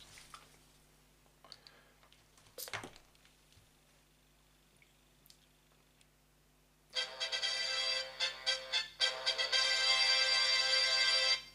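Electronic welcome music plays from a micro SD card in a presence-detecting diorama animation module, bursting in loud and tinny after several seconds of quiet handling clicks and continuing in choppy phrases.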